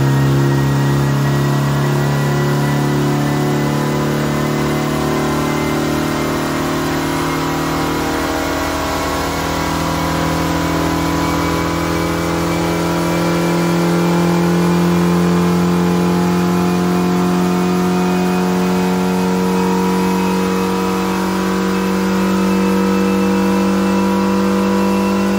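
Engine on a dyno during tuning runs up through the rev range in one long, loud, continuous pull with rising harmonic tones, close and without talk.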